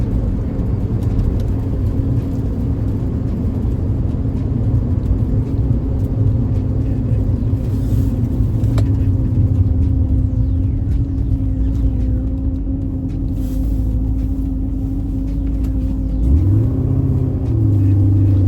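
A 1979 Porsche 928 with a five-speed manual cruises onto the highway, its engine a loud, steady rumble under heavy road and wind noise, rising briefly as it accelerates near the end.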